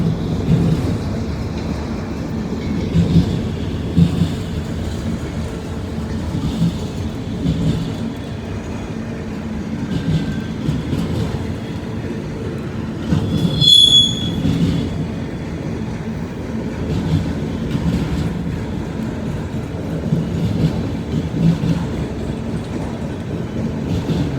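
Long freight train of auto rack cars rolling past on wet rails, a steady rumbling drone of wheels with a brief high wheel squeal midway, heard from trackside.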